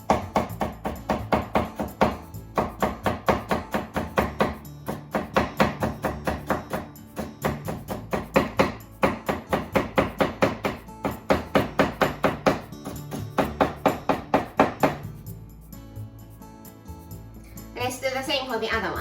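A knife chops cucumber into strips for a harusame glass noodle salad, in quick rhythmic runs of close, crisp chops on a board separated by brief pauses, with a voice briefly heard near the end.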